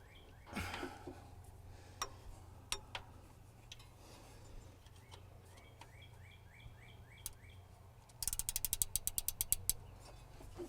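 A giant wrench loosens a bolt on a truck, giving scattered metallic clicks and ticks, then a quick run of sharp ratchet clicks near the end, close up with no talking.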